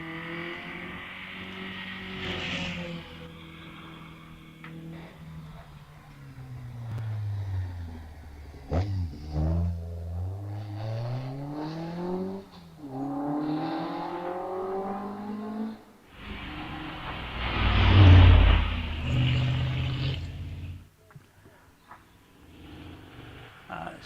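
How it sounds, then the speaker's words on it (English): A V8 Morgan, car number 116, pulls away from the start line at a hillclimb, its engine rising through the gears and fading up the hill, with a commentator talking over it and a loud burst near the end. "As we look to see the V8 Morgan back on the start line down there."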